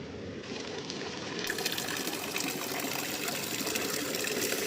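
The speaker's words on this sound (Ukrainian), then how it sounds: "хлюпає водичка." Water splashing steadily in a fountain in Rome, a dense continuous gush and patter that grows slightly louder after the start, with no voices.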